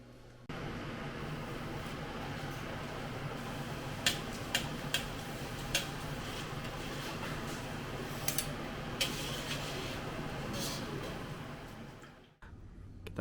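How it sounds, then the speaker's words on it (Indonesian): Pastel pastries, made from an 1856 recipe and sealed with egg, fry in hot oil, giving a steady, even sizzle broken by a few sharp crackling pops, with no talking. "Kita goreng sekarang ya."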